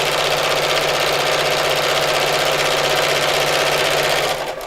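A domestic sewing machine stitches steadily through fabric and wadding at around a 2.8 stitch length, a close, continuous rapid whirring hum that stops abruptly at the end.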